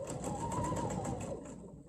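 A sewing machine stitches fabric for a jar lid opener craft, a fast, steady whirring run of needle strokes that stops abruptly near the end, heard alone and up close.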